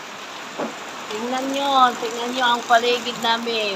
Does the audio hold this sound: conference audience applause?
no